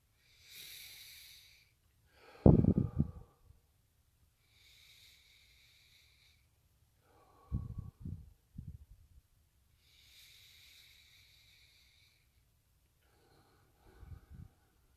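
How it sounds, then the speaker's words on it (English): Slow, deep breaths taken alone in a quiet room: a few soft, airy inhales and longer exhales with pauses between, one sharper, louder intake near the start. "deep breaths"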